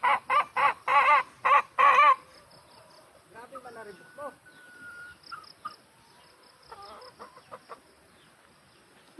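Fighting roosters kept in cages at a cockfighting derby: a string of loud, close crows and clucks fills the first two seconds, followed by softer scattered clucks and chirps over faint insect noise.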